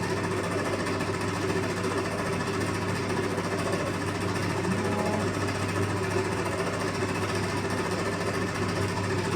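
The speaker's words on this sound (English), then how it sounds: "we'll put that on a slow speed and we're just going to gradually mix it in" An electric mixer whirs continuously on slow speed, gradually blending chocolate chip whoopie pie batter, a steady near motor drone with no talk.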